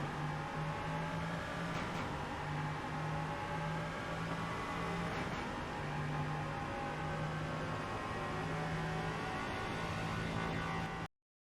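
Race car engine lapping Imola in a racing game, a steady droning whine held at constant load throughout with faint shifts in pitch, loud and continuous with no talk.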